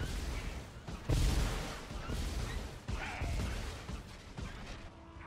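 Blaster shots and impacts in the Star Wars: The Old Republic video game, a few sharp bursts and crashes over a busy background of game noise at moderate loudness.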